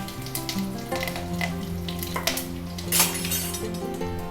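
Mustard seeds and curry leaves crackle in hot sesame oil, a close sizzle studded with sharp popping seeds and one brief louder spatter burst, with no voice present.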